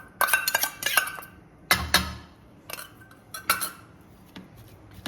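Green chili and cumin being mixed into a potato paratha filling, metal utensils clinking and scraping against a bowl in short bursts separated by pauses, close and fairly loud.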